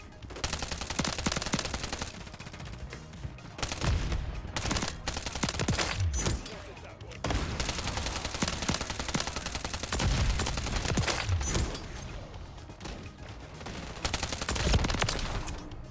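Rapid Striker submachine gun fire in the shooter game Warzone, repeated dense bursts of shots with short gaps between them, loud and close throughout.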